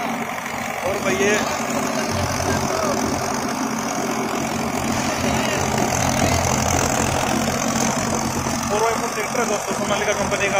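A steady mid-pitched Sonalika tractor engine rumble runs throughout, close and continuous, powering a thresher, with faint voices in the background.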